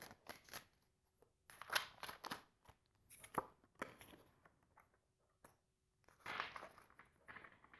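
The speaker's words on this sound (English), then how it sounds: "Let's pull some more cards on this." Tarot cards are pulled and shuffled in quick bursts of papery flicks and slaps, close and fairly clear, separated by short silent pauses.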